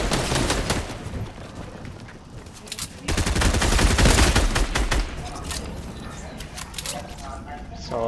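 Rapid bursts of gunfire ring out in a Fortnite OG Chapter 1 match, loud and dense with a heavier flurry in the middle, while players talk over the shots.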